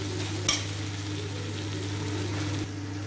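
Leftover idli pieces fry with finely chopped capsicum in a pan, giving a steady, even sizzle throughout with one brief louder crackle near the start.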